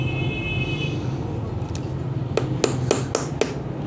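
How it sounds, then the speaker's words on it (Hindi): A chisel or screwdriver taps a cam bearing on a Honda CD70 Euro 2 engine head, giving about six sharp, evenly spaced metallic knocks in the second half over a low steady background hum. "हल्की सी जो है यहाँ पर चोट लगाएँगे इस जगह पर किसी सीधे मुंह वाली छेनी से या किसी पेचकस से"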